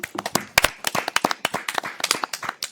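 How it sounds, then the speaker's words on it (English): Applause at a mayor and council meeting, a small group clapping in uneven bursts, fairly close and moderately loud, with no talk over it. "Let's give Karen a big round of applause."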